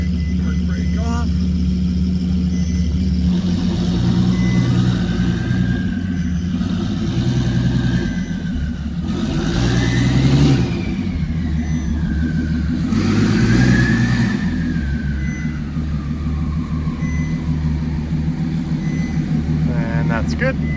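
A car engine rumbles steadily, then revs up twice in rising and falling surges as the car pulls away after the park brake is released, with someone talking over it.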